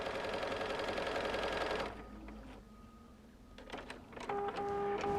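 A sewing machine with a quarter-inch foot top-stitches a Christmas stocking in a fast, steady whirring run that stops abruptly partway through, followed by quiet clicks and handling noises, then a brief mechanical buzz and tone near the end.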